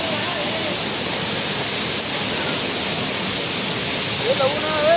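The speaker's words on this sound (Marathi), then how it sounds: "हा बघा आमचा वजर धबधबा. तर इकडे बघू शकता पाणी खूप जास्त आहे." The Vajar waterfall in the Konkan, in full flow during the first rains, gives a loud, steady roar of rushing water that fills the whole scene without a break, heard close by.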